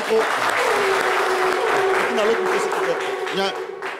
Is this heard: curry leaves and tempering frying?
no